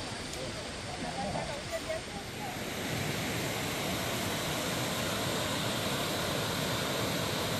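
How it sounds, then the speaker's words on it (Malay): A waterfall pours through gaps in granite rocks on a jungle hiking trail, a steady broadband roar that swells slightly after a few seconds and stays constant, close and loud. "Air terjun Dakota memukau dengan aliran jernih yang jatuh di celah batu granit"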